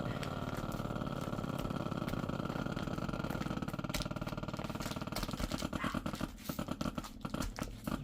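Vacuum sealer pumping air from a bag holding a boneless USDA Choice New York beef loin steak for sous vide, a steady close motor whir that turns choppy and rattling toward the end as the bag seals.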